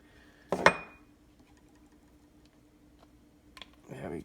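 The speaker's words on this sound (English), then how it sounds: "Let me get a smaller bowl here." A bowl taken out and handled in a kitchen, a sharp clink and clatter of dishware up close, then quiet, followed by a couple of softer knocks and a brief rustle.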